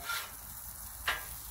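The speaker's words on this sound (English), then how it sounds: "Put that oil in there" Oil sizzles on a Blackstone griddle in a steady close hiss, with one brief louder crackle flaring up partway through.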